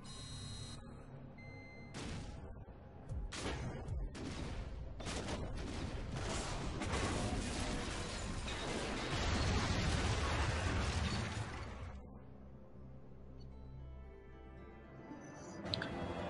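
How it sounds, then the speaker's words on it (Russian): An assembly-line plant explodes in the Mass Effect 2 video game. Dense blasts, crashing debris and shattering bursts pile into a loud, sustained barrage that fades to rumbling quiet near the end, with no speech over it. "Вот, мы взорвали завод этой сборочной линии."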